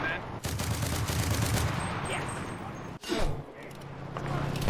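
Bursts of rapid machine-gun fire from the WW2 shooter Enlisted, a fairly quiet rattling fusillade with a sharp break midway, mixed with other game noise and a little talk.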